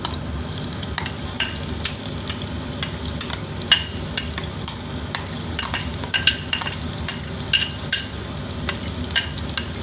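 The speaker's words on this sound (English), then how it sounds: "I have sliced it into a very fine pieces, and I'm adding this to it." Three medium onions, finely sliced, frying in a pan with a steady sizzle and repeated sharp clinks and scrapes of a spatula stirring them, close and clear without talk.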